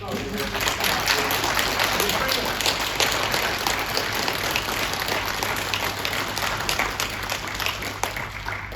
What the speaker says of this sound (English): I would like you to give a really, really nice round of applause to our three guys